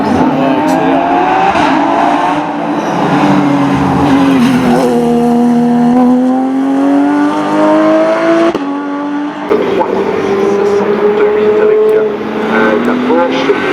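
Porsche race car at the Col Saint Pierre hill climb in 2024, engine screaming loud and close through repeated upshifts and downshifts, pitch sweeping up and down between gears with brief tyre squeal, sustained over the whole run.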